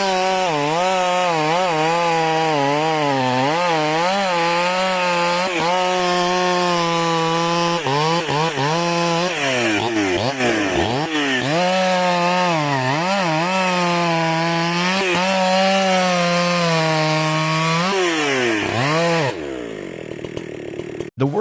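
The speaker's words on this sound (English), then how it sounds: "Using a chainsaw, he cuts away the top of the tree" A chainsaw cutting the top off a towering tree runs loudly and continuously, its engine pitch rising and falling as it bites into the wood, then cuts off abruptly near the end.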